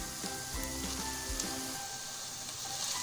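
Half a kilo of minced beef hits softened onions in a hot pan, raising a steady close sizzle and frying crackle with a few low scraping knocks from stirring early on.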